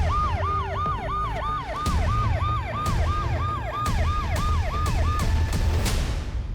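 A police siren wails with a rapid, repeating up-and-down yelp, loud and close over a low rumbling background, with a few sharp knocks near the end.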